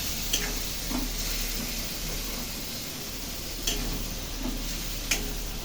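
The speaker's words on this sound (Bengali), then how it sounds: "মাছের তেলটা দিয়ে এবার এর মধ্যে আপনি নাড়তে থাকুন অনবরত" Fish oil, fish and vegetables including eggplant fry over high heat in a wok, with a steady hiss of sizzling under a few sharp clicks of a spatula stirring, with no talk.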